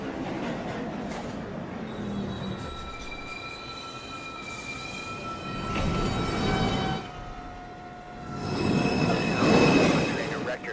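NYC subway Manhattan-bound 2 train at Lincoln Center station, a rumbling arrival that swells in bursts with high squealing wheel tones, with platform announcements sounding over it.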